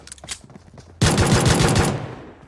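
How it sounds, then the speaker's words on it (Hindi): UMP submachine gun fire in the mobile battle royale game BGMI, a loud, sudden burst of rapid automatic shots that follows a few fainter muffled sounds and then cuts off abruptly. "जैसे मुझे राइट से UMP का फायर आता है"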